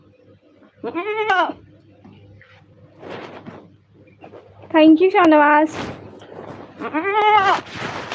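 A male goat bleats several times, loud and close, in drawn-out wavering cries spaced a few seconds apart, with a person speaking briefly between the calls.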